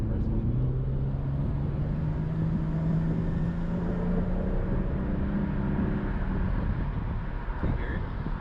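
A Nissan R32 Skyline GTS-T engine drones steadily while driving, blended with road and wind noise in a continuous cabin rumble with no distinct rev changes.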